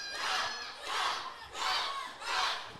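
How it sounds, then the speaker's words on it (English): A wrestling crowd at a live independent pro wrestling show in Healdton, Oklahoma, roars in four rhythmic chanting surges, each swelling and fading about every half second to a second, loud and close with no talk over it. "this crowd firing up for Rook Tyler"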